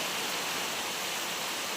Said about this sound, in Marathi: तेच ना पावसाला सुरुवात झाली